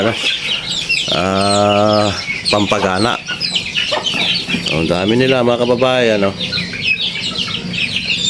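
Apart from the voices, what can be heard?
native chickens clucking while feeding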